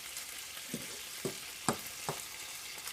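Potatoes fry in a single pan with a faint steady sizzle, broken by four or five soft scraping clacks as they are flipped and spread out with a utensil.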